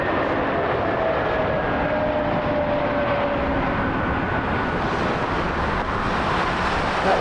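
A United Airlines jet lands at Las Vegas, producing a steady, moderately distant engine roar with a broad rushing wash and faint high whine that persists evenly throughout, with no talking.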